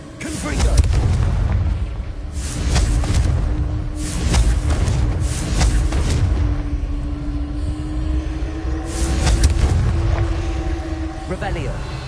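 Confringo fire spells blasting in Hogwarts Legacy: a series of deep booming explosions every couple of seconds over a rumbling background, loud and close, with a player's voice speaking between the blasts.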